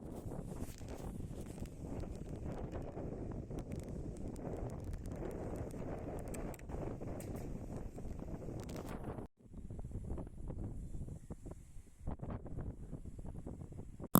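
Steady outdoor wind buffets the microphone in a continuous broadband rush beside an old shed roof, briefly dropping out once before the gusty roar resumes, with no speech.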